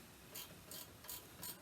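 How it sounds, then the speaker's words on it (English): A Husky ratcheting wrench clicks in four short bursts of ratcheting, each about a fifth of a second, at a steady rhythm. The clicking is close and crisp, and there is no talk. "These ratcheting wrenches are awesome"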